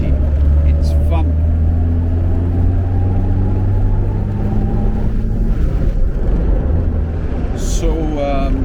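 A 1953 Jaguar XK120 drophead coupé driving through traffic, its engine holding a steady, loud drone that shifts in pitch as gears change up and down, with someone talking over it.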